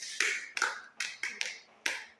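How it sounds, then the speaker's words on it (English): Classmates clapping for a student in a lesson, a handful of sharp separate claps in an uneven rhythm, fairly near and quiet, with pauses between them and no talk. "Please clap for him."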